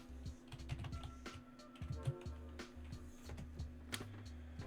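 Fingers tap on a computer keyboard in quick irregular bursts of light clicks and thocks, close but quiet, over a low steady hum.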